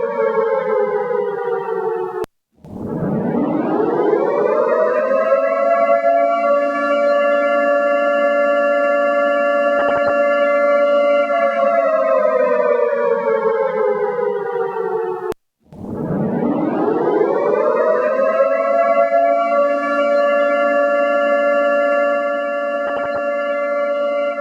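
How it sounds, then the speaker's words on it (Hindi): An air raid civil defense siren wails loud and steady, rising in two long sweeps that each hold a sustained tone before a brief break. "ये सायरन इससे पहले जब हम सुनते थे तो किसी आपातकाल"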